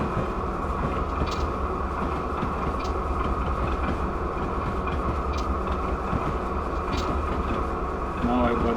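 Norfolk Southern freight train in Train Simulator rolls steadily along the line, a continuous loud rumble with faint periodic squeals and clatter, while a voice speaks over it.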